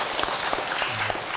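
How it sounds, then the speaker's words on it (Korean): An audience claps at a Buddhist dharma lecture, a short burst of dense, even applause heard up close. "박수 한번 주세요."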